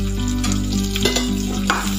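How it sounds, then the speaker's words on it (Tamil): Onions and chillies sautéing in a pan, a close, dense sizzle with a steady hum beneath and a few sharp stirring knocks, brief and without speech. "இப்போ வந்து வெங்காயம் நல்லா வதங்கிருச்சு"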